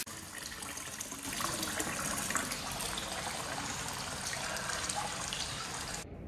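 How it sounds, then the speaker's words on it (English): Water gushes from a tap into a bathtub in an airport business-class lounge shower room, a steady rushing pour that runs evenly for several seconds before cutting off abruptly near the end. "while I wait for the water to fill up in the tub"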